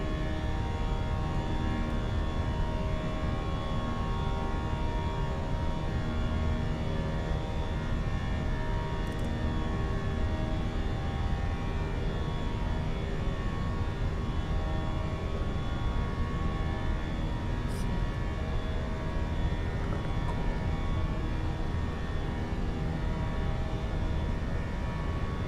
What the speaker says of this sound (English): so we're starting our initial climb here.